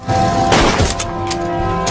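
Gunfire booms and cracks in a dense film soundtrack from an Indonesian independence war movie, with a heavy blast mid-clip and a few sharper shots after, mixed with a sustained tonal score.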